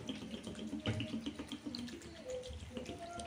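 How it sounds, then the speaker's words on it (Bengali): Water poured into a pot of banana flower and chickpeas, a close running splash that gurgles and shifts in pitch as it fills, continuous for a few seconds. "জল দিয়ে দিলাম আন্দাজ মতো"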